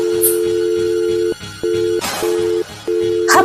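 A telephone line tone heard right after dialing a number: a steady, loud electronic tone broken by short gaps, repeating several times, with a brief burst of noise partway through and a high chirp near the end.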